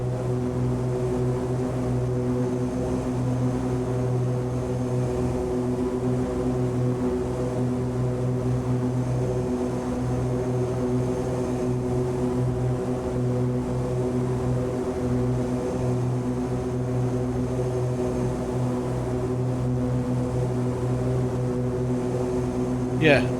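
A de Havilland Dove propeller aircraft in Microsoft Flight Simulator 2020 drones steadily through a landing approach, its even engine hum constant and moderately loud from start to finish, with a voice talking over it.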